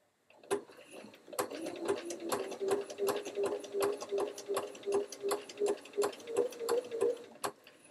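A sewing machine runs in short bursts stitching a quilt block, its needle hammering a quick regular beat close by, with a faint tonal hum underneath and pauses between runs.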